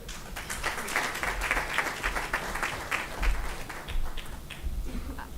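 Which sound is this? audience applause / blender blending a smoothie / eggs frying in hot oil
audience applause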